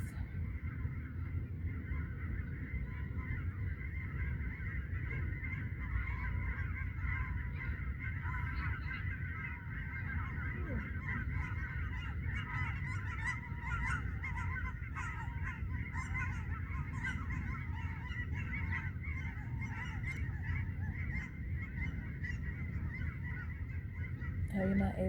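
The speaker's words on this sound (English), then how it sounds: "It was a flock of birds that just went into threes." A flock of geese flying overhead, honking steadily and repeatedly for the whole stretch, a dense layered chorus of calls over a constant low background rumble, with no talking.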